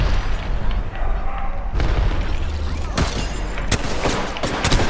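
Grenade blast in the battle royale shooter Apex Legends, a loud boom rising out of a dense stream of rapid gunfire and repeated sharp shots, with players talking over the chaotic mix.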